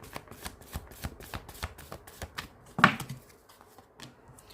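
A deck of tarot cards being shuffled, with a run of quick, crisp riffling flicks close by and one louder snap near the end, with no voices over it.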